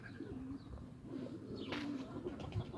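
Soft, low pigeon coos repeat a few times against a quiet background hum, with a brief rustle partway through.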